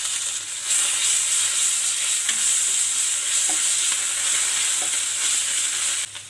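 Curry leaves and ginger garlic paste fry in a pan for a potato and capsicum palya, a loud steady sizzle close by with a few light stirring clicks.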